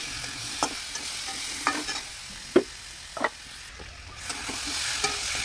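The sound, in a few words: frying spice paste with cumin and coriander powder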